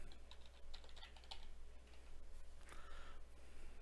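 Soft, quick keystrokes on a computer keyboard while a password is entered during a software setup, a faint irregular patter over a steady low hum with no talking.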